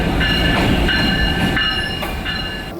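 A train moves through Jhelum railway station, its steady loud rumble carrying sharp squealing wheel tones and rhythmic clatter throughout, with no voices over it.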